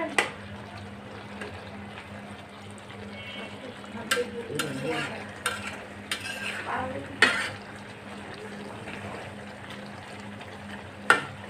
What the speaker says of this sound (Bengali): তো এই তো নাড়াচাড়া দিয়ে আবারও ঢেকে দিলাম